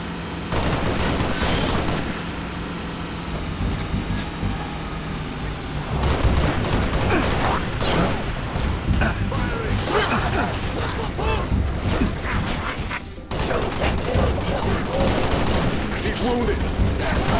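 Rapid gunfire from the video game Halo Reach fills the scene, dense bursts of automatic shots and weapon mechanisms crackling almost without pause, loud and up close, with brief in-game radio chatter mixed in.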